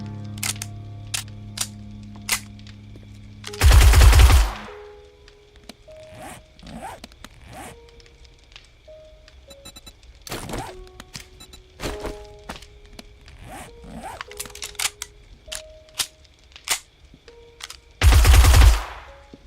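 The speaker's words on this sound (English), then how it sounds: "But the full auto thing makes it shoot faster," Full-auto gunfire in the zombie survival game 7 Days To Die, heard as two loud, dense bursts, each about a second long, separated by quieter in-game clicks, thuds and tones.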